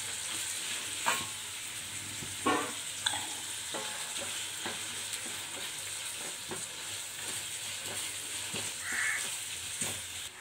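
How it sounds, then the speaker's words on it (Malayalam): Sliced onions sauté in a pan for chicken biryani, giving a steady soft sizzle broken by occasional scraping stirs from a spoon, heard close and fairly quiet with no talk. "ഇനി നമുക്ക് നന്നായിട്ടൊന്ന് വഴറ്റി എടുക്കാം."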